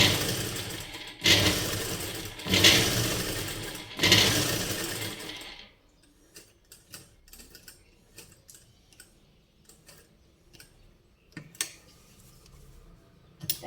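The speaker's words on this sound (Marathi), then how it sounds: "आपण शिलाई मारून घेणार आहे." A sewing machine stitches along the edge of a canvas-backed Y-cut top, giving three loud bursts of rapid mechanical whirring, then fading to faint scattered clicks and handling sounds.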